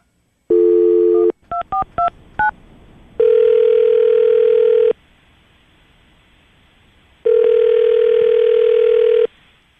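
A telephone line gives a short tone, then a quick run of dialed keypad beeps, followed by two long, loud ringback tones separated by a silent pause.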